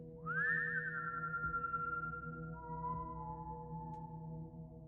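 A thin, wavering whistle rises and then glides down into a long, steady tone, faint and eerie against a low background hum.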